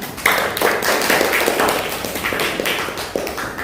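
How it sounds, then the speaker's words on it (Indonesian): A classroom group applauds during a teaching-practice session, a steady patter of many overlapping hand claps at fairly even loudness for the whole stretch, close by, with no talking over it. "Beri tepuk tangan satu kali lagi"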